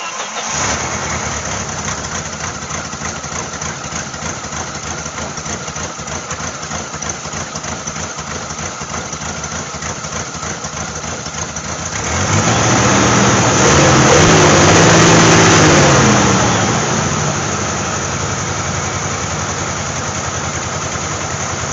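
A 1988 Jeep Wrangler 2.5 liter four-cylinder, running rough, cranks and catches, then idles with a loud steady drone, revving up briefly midway before settling back to idle.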